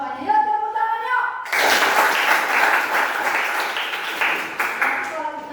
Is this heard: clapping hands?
yes